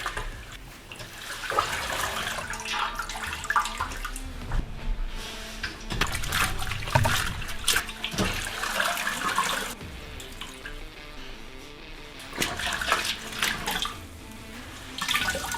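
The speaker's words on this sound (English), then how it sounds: "I'm washing these by hand" Canvas fabric being washed by hand in water, with repeated sloshing, splashing and swishing in uneven bursts, close and fairly loud, continuing throughout with brief quieter pauses.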